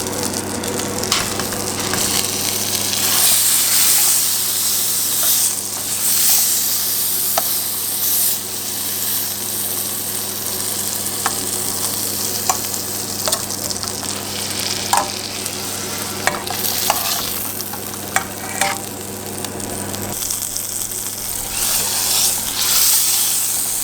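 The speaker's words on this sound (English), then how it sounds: "Then I'm gonna sear a steak in a pan for just 1 minute." A steak sears in a pan with butter, giving a loud, steady, crackling sizzle that carries on throughout, with scattered pops and spits.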